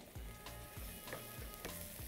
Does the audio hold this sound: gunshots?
no